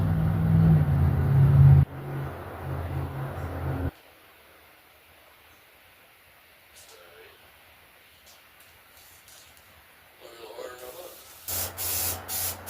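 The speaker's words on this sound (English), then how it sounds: "I'm gonna put a little light coat on it right now." Spray paint lays a light coat onto a battery hold-down in a paint booth, heard as loud, close hissing at the start, then a quiet stretch, then a brief renewed hiss near the end.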